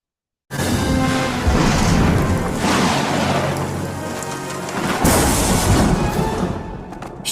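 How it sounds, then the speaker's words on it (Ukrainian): Heavy rain pours steadily in a cartoon thunderstorm, with rumbling thunder rolling underneath and a louder crash partway through, with no talking. "Грім це всього лише звук, його не варто боятися."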